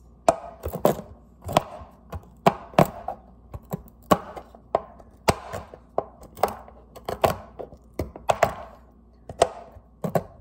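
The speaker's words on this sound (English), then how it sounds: "I'm just gonna chop up a couple of almonds." A knife chops almonds on a cutting board in a string of sharp, uneven thunks, some quick pairs and some single strokes, close and clear with no talking.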